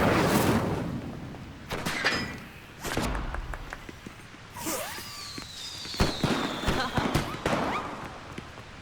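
Incendio fire spell cast repeatedly in Hogwarts Legacy, bursts of crackling, whooshing magical blasts and thuds mixed with game effects and a spoken incantation.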